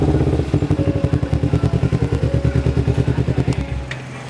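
A motorcycle arrives close by, its engine putting out a loud, rapid, rhythmic pulsing putter that holds steady and then fades at the end, with no speech.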